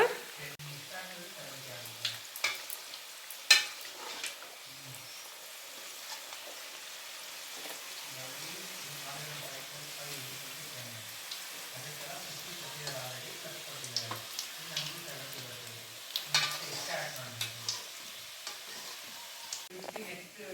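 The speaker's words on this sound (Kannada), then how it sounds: "ಒಂದು 2 ನಿಮಿಷ ಅದು ಎಣ್ಣೆನಲ್ಲಿ ಫ್ರೈ ಆದಮೇಲೆ ತಿರುವಾಕೋಣ." Coconut-filled karjikai pastries deep-frying in hot oil, a steady soft sizzle and bubbling throughout with occasional clinks and stirring as they are turned, and faint voices or background sounds at times.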